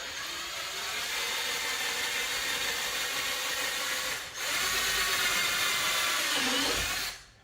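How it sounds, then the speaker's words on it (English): A power drill bores out rivets on a 6th generation Camaro while front canards are fitted. It makes a loud, close, continuous high whine, with one short dip midway before it resumes and then spins down at the end. "I'm going to drill out the rivets over here"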